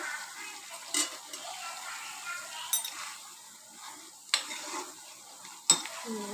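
A spoon stirs vada curry in a pan. It gives a few distinct scrapes and clinks over a steady, soft simmering hiss, with no talking.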